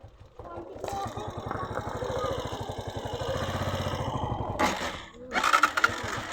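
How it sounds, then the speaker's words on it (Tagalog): A motorcycle engine idles unevenly and sputters, a steady mid-pitched chug running under a voice, then briefly dropping off before a rougher burst near the end. "Nagkakapsat yung motor ko."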